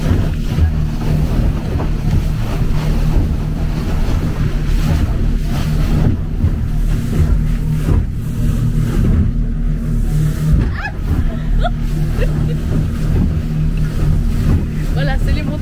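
A motorboat pounds across rough sea off Bali, its engine droning under heavy wind buffeting and crashing waves, with voices talking over the noise.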